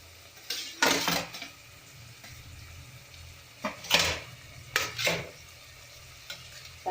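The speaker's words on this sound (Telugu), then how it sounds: "మనం రైస్ అయితే వేసేద్దాము." Rice tipped into a hot pan of chicken fried rice, giving a few short scraping and stirring bursts with light sizzle between quieter pauses, close up with no talk.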